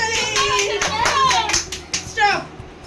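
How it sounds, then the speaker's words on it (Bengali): Several people clap their hands in a quick, uneven burst of close, sharp claps, with voices talking over them. "হাততালি দে হাততালি দে"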